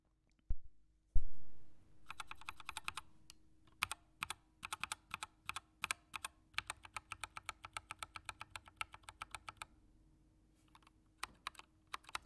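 Rapid clacky typing on a mechanical computer keyboard, close and crisp, with dense runs of keystrokes broken by short pauses and a few louder thumps at the start, no talking.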